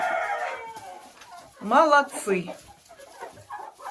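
Laying hens in a coop cluck in short bursts alongside someone speaking, with a louder fowl call rising midway and softer hen chatter continuing around his voice.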